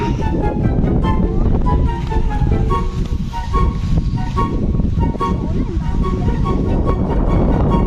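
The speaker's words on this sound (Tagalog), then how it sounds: "Malakas yung hangin, hindi ka makapagpalipad na maayos pag ganyan." Strong gusty wind rushes over the microphone in an open rural field, loud and continuous, with faint tonal sounds and muffled background noise mixed in.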